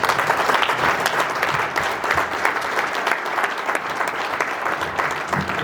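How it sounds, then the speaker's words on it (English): Audience applause fills a conference panel session at a trade event, a steady dense wash of many hands clapping at close range for the whole stretch with no break and no voices on top. "I'd like to applaud everybody."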